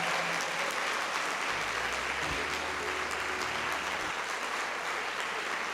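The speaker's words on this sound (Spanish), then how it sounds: "Dele un fuerte aplauso al Señor." Sustained applause from a church congregation at a Spanish-language worship service, a dense steady wash of clapping that carries evenly from start to finish, with a low hum underneath.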